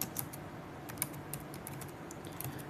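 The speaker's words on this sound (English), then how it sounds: "So here I'm going to type my name," Fingers type on a computer keyboard, light irregular clicks and taps at close range, steady and alone with no talk.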